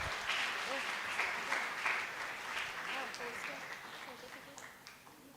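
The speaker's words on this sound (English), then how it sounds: "please again give her a big round of applause" Audience applause at a science communication conference on quantum science, steady clapping filling the hall for several seconds and gradually tapering off, with a few voices faintly underneath.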